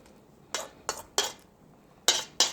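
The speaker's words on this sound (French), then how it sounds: "Je vais verser ça dans mon petit ramequin ici qui va au four." Soaked bread for maple-syrup French toast is scraped and poured from a bowl into a small buttered oven ramekin, producing five sharp, close utensil knocks and clinks against the dish in an uneven rhythm.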